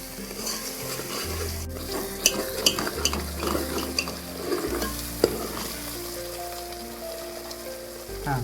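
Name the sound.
tandoori mutton masala frying in oil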